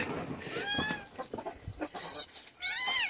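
A cat meows several times in short, rising calls close by, separated by small rustles and quiet gaps, with a louder drawn-out meow at the end.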